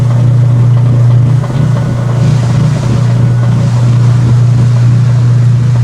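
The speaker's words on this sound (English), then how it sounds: "that newer drain pump sound just seems more fitting for this machine" Newer washing machine drain pump running steadily, a loud continuous low hum with a strong drone and a wash of noise on top, unbroken for the whole stretch with no talking.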